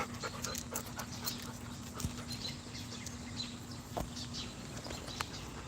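Gaia, a dog kept outdoors with her parents Moon and Soma, pants steadily and close by, with faint clicks and light movement through the clip and no talking.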